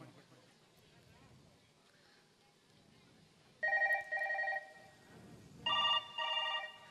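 A telephone rings in two loud, steady bursts with a pause between them, over a quieter background of voices talking.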